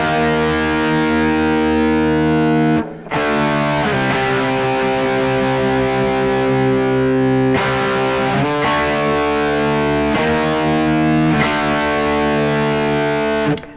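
Distorted electric guitar slowly plays the intro to a song, sustained chords and single notes ringing out one after another with brief breaks, loud and close with no talking.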